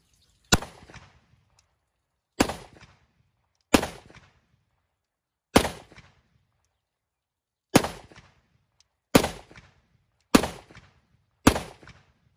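A Zastava 30 bore pistol fires eight sharp, loud shots one at a time at uneven intervals of one to two seconds, each crack ringing out briefly into silence, with no talking.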